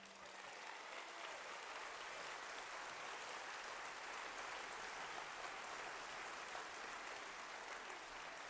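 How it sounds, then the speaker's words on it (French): Steady, dense applause from a large audience at a closing political speech, sustained evenly throughout at moderate distance with no talking over it. "Je pense qu'on peut les applaudir."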